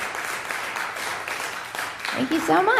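An audience applauds at a live music show, a steady wash of clapping that carries on while a voice speaks over it.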